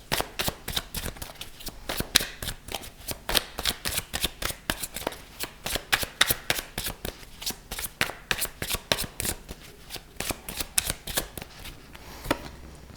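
Tarot cards being shuffled at close range, a steady run of crisp riffling slaps and flutters repeating fast and evenly throughout, fairly loud with no talking.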